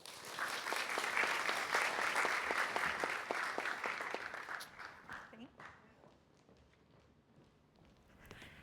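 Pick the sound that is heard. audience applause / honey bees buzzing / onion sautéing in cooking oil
audience applause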